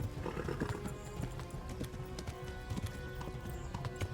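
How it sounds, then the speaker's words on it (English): A horse gallops in the video game Kingdom Come: Deliverance, with rapid continuous hoofbeats and a faint whinny over a soft background bed. "Come on, horse. I know you can't, but we have to."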